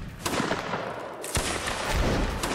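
Musket gunfire in a line battle video game, with a few sharp shots ringing out over a busy, continuous battlefield din, none very close.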